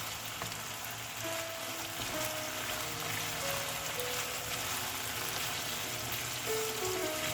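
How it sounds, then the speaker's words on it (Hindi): Chicken pieces sizzling with tomatoes in a karahi, a steady dense frying hiss that continues without a break, close and moderately loud. "अब मैं इसका लिड उठा लूँगी और इसकी अच्छे तरीके से टमाटरों के साथ भुनाई करूँगी"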